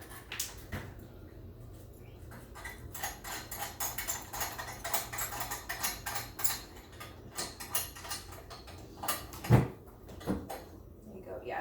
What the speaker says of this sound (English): let's practice taking off the mat carriage, or the carriage mat